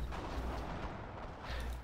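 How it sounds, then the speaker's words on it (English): A large explosion in the World War II shooter game Forgotten Hope, with a train blown up; a dense, rumbling boom and crackling roar that sustains for nearly two seconds, heard alone at a low level. "He blew the whole thing up."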